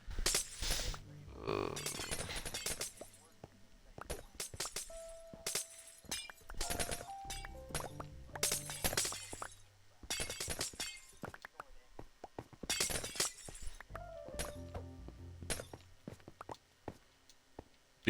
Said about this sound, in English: I hate listening to this glass break